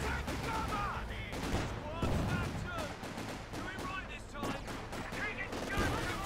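Company of Heroes 2 battle with .55 caliber sniper fire among bursts of gunfire and explosions, dense and continuous, with a voice commentating over the top.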